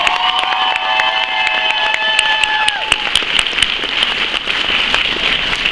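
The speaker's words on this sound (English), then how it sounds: "A big round of applause for all of our participants tonight." Loud audience applause and cheering at an anime convention cosplay masquerade, a dense, continuous roar of clapping with high-pitched shouts and whoops rising over it early on, then steady clapping to the end.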